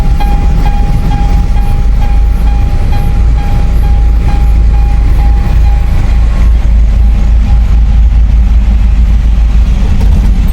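A train rumbles steadily at Kekirawa railway station with a low engine drone, a faint high tone running through it, loud and continuous throughout.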